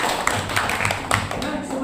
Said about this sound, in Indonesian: beri tepuk tangan untuk kalian semuanya